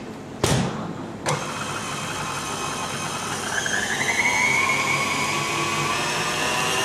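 A food processor mixing chestnut cream with whisky at medium speed for a Christmas log cake: two clicks as it starts, then a steady whirring motor hum that rises slightly in pitch and keeps running close up.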